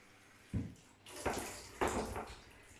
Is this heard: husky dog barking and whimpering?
no